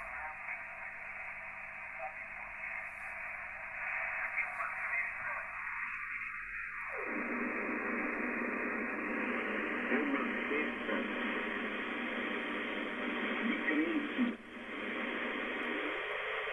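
An Icom IC-R71E radio receiver hisses with steady static noise through a Datong filter, its band of noise shifting in width as the filtering changes, with a brief dip near the end.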